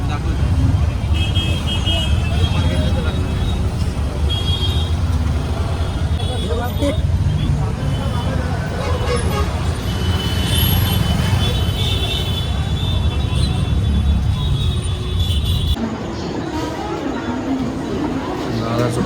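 An auto rickshaw rides through busy traffic, its engine droning steadily under road noise, occasional horn toots and passing vehicles, with people talking along the way; the sound thins slightly near the end.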